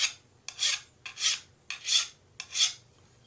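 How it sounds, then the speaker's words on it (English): A hand file rasps along the edge of a skew lathe chisel in four close, even strokes, each a gritty scrape with short quiet gaps between. "Especially with the skew chisel, I just use a file."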